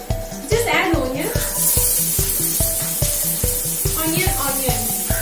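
Onion tipped into a pan of browning garlic, hissing in a steady broad sizzle close by, while strong rhythmic music plays over it.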